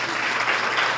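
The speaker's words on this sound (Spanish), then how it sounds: "Gracias, un fuerte aplauso" A brief stretch of steady audience applause at a talk on attracting investors and raising capital in Ecuador, a moderate wash of many hands clapping at once.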